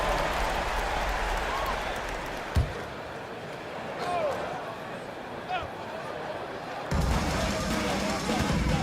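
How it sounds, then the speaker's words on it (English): Steady crowd roar and applause from a basketball game in NBA 2K25, with a couple of sharp thumps and a sneaker squeak standing out, then the cheering swells louder. "Give your fans a round of applause."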